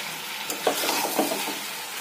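Bengali chicken curry meat fries in oil in a pan with a steady, close sizzle, and a few soft stirring scrapes sit over it, with no talk.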